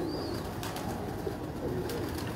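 Breeding pigeons in a loft cooing steadily at close range, a low continuous burbling chorus with a faint chirp above it, heard alone without speech.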